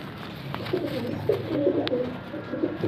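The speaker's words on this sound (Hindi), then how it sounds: "बड़े आला क्वालिटी के कबूतर हैं व्यूअर्स" Pigeons of old, prized breeds coo softly in soft low repeated calls close by, with faint background rustle and no talk over them.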